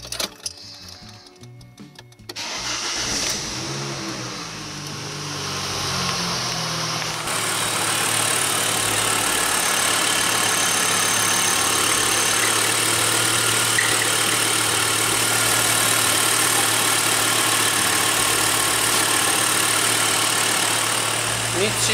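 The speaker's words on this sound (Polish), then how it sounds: "Okidoki, odpalamy maszynę." A diesel car engine with its oil overfilled by diesel fuel cranks and catches after a short silence, then settles into a steady, close, loud idle with a faint ticking rhythm for the rest of the time.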